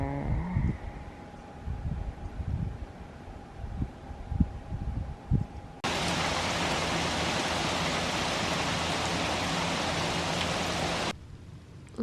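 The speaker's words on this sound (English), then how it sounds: "It's another rainy day today." Rain falls outside as a steady hiss, quieter at first under scattered nearby knocks, then louder and continuous for several seconds before dropping back.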